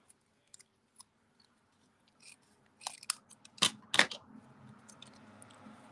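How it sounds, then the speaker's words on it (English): Scissors snip the ends off paper for a quilted card, a few faint scattered clicks followed by several sharper, closer cuts near the end. "now I need to cut some of these ends off"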